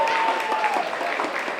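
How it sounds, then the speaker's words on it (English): Audience at a senior center breaks into applause for an honoree, a dense wash of clapping that holds steady for the whole short stretch, close and fairly loud, with a faint tone running underneath. "Everyone, please give her a round of applause"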